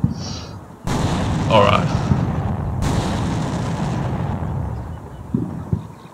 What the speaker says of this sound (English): I will send some artillery on these targets.